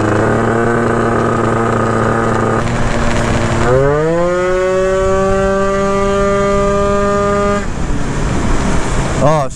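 A Derbi GP1 scooter with a 94cc Malossi engine is ridden, its high, buzzing two-stroke whine steady at first. The pitch climbs sharply around four seconds, then holds strong and loud, wavering briefly near the end.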